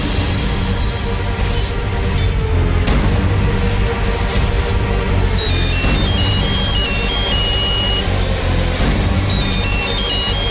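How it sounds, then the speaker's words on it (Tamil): A phone ringtone plays an incoming call as a loud, bright electronic melody of repeating stepped tones, mixed with a dense background of music. "அவர் போன்ல இருந்து போன் வருது"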